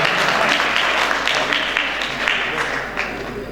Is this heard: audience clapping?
yes